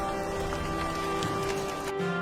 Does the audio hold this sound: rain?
yes